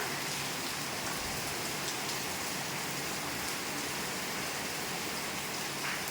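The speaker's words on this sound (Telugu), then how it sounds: "వర్షపు చినుకుల నీటి ధారలు చూడండి" Steady rain falls outdoors in dense streams of drops, a constant hiss of water that holds an even volume throughout with no voices.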